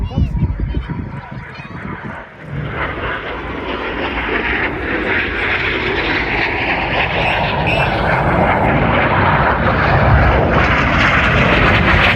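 Red Arrows jets performing the Synchro double roll at a Shuttleworth air display, a loud sustained roar that swells and builds steadily, with a brief dip early on before the engine noise grows fuller and nearer.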